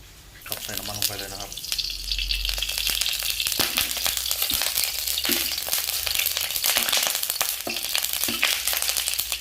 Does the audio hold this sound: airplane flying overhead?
no